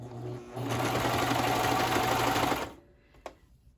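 A sewing machine stitching pajama pants runs in a loud, steady, rapid whir for about two seconds, then stops, followed by a single sharp click; a voice talks briefly before it starts.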